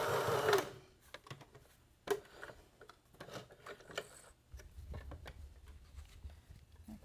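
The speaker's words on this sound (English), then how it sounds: "I'm going to back stitch just slightly to lock those stitches" Sewing machine back stitching on a sewn fabric Christmas ornament, a close whirring patter of stitches that stops and starts, with a louder opening burst and a few sharp handling clicks.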